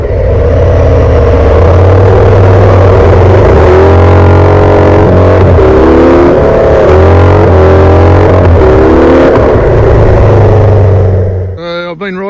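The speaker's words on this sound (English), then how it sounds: "I'm out testing the Harley Davidson Street Bob" Harley-Davidson Street Bob 114 motorcycle engine rumbling loud and close, with a deep steady V-twin throb and several revs rising and falling in pitch before it cuts off near the end.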